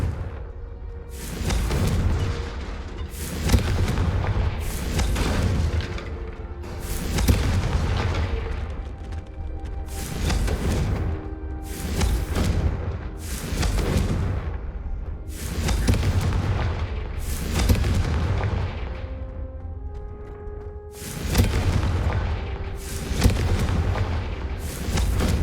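Repeated Confringo explosion spells blasting in Hogwarts Legacy, a string of about a dozen loud booming detonations at irregular intervals, each with a sharp crack and rumbling tail, alone without speech.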